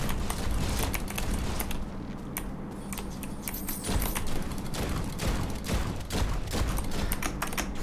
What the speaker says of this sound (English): Chance to shoot a volley of bullets towards the enemy.